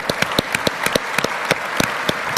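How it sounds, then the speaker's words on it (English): A conference audience gives a round of applause, a loud dense patter of many hands with a few sharper, louder claps standing out near the microphone throughout. "Shall we give them a big round of applause?"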